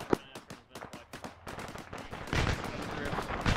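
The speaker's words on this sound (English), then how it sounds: "People, I think you're shooting on friendlies." Gunfire in a military video game, with rapid sharp shots in quick bursts that grow into denser, louder volleys toward the end.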